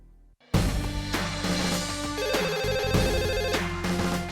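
A telephone rings while a call to the police is placed, with tonal ringing and steady background music throughout after a short quiet start.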